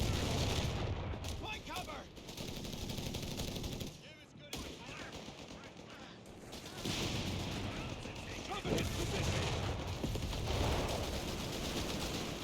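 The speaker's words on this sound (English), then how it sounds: "Up north, Rifleman opening fire." Riflemen open fire in a World War II strategy video game set during Operation Torch, with loud bursts of rifle and machine-gun fire and heavy artillery-like blasts overlapping in a dense, continuous battle din.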